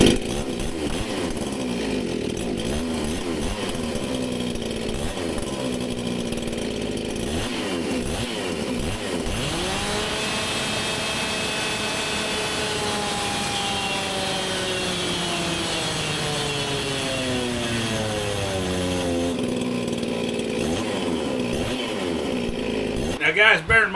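A Stihl chainsaw fitted with a single-pipe muffler mod runs at full throttle on a dyno, a loud continuous high-revving buzz that bogs down as load is applied and then climbs back up over about twenty seconds.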